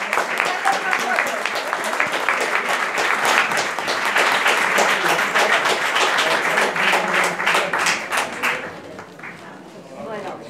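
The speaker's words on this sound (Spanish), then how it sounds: "Un aplauso para ella, por favor." A theater audience at the Casa de Madrid in Barcelona claps in a loud, sustained round of applause that holds steady for most of the stretch and thins slightly near the end.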